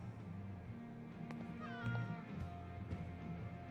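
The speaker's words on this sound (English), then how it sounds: "I hear cat." A cat meows in Life is Strange: True Colors, a few clear rising calls in the middle over a steady low game background hum, with no speech.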